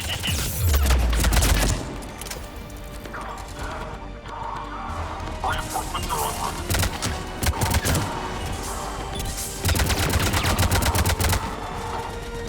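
Heavy gunfire during an attack in the video game Mass Effect 3, with dense bursts of rapid shots, crashes and mechanical clatter, loud and sustained, with strong volleys near the start and toward the end.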